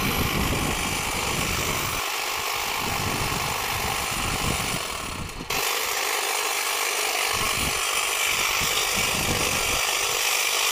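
A Kobalt cordless electric trimmer buzzes steadily while cutting box hedges, a continuous close whir that briefly dips in strength midway and then resumes, with no talk.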